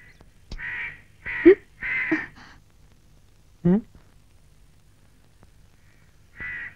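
Several harsh caws from a crow come in short bursts, some nearby, with a few gasping vocal sounds between and quiet pauses.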